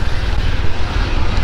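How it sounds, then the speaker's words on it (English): Police helicopter circling over a Spanish seafront, a loud continuous low rotor and engine drone filling the whole moment without pause. "Helicopter still going round."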